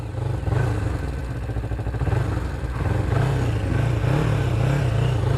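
A 1999 Kawasaki Ninja 250 motorcycle is ridden, its engine droning loudly and steadily up close, with the pitch repeatedly rising and dropping as it revs through the gears.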